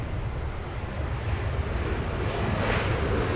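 A C-17 military transport aircraft departs Los Angeles International Airport, its engines producing a steady, broad roar at moderate distance that swells slightly toward the end, with wind noise over the microphone.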